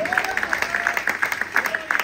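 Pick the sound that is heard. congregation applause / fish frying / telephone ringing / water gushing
congregation applause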